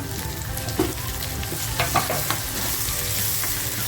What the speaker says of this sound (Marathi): कापला होता तो टाकते आता टॅमॅटो